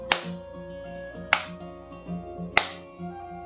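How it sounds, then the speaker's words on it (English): Three sharp claps spaced about a second and a quarter apart, crisp and close, over a low steady hum with nothing else happening. "the clap is a technique video makers do to sync in their audio"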